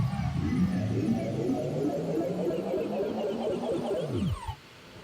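A power-up transition effect: a dense, washy synthetic swell of overlapping tones with heavy reverb that starts very wide and steadily decreases, ending in a falling sweep and sudden drop-off.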